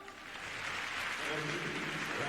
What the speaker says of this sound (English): You can hear the audience now cheering one of their own.